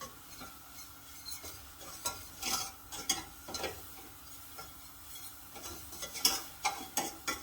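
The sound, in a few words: stirring flour into butter to make a paste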